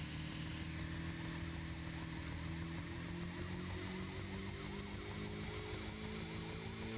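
A police car siren wails in the racing game Midtown Madness, rising and falling steadily over a constant low engine drone. It runs without a break across the whole stretch and nobody speaks.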